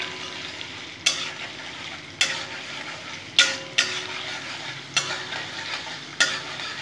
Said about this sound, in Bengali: রসুন থেতো করে রেখেছি, 15-16 কোয়া রসুন আমি থেতো করে রেখেছি। এটা সুন্দর করে ভেজে নেব।